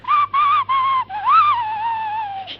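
Clear, loud whistling: three short steady notes, then a longer tone that swoops up and slowly glides down, with no talking.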